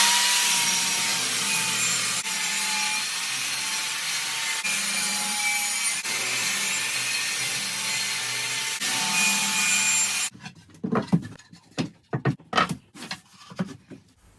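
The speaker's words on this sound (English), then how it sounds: "I'm now sanding it back to do some testing on this piece in terms of the surface finish." Loud, close sanding of an epoxy resin test piece, a continuous harsh abrasive rasp with a steady tone that stops abruptly near the end, followed by a few scattered knocks and rubs.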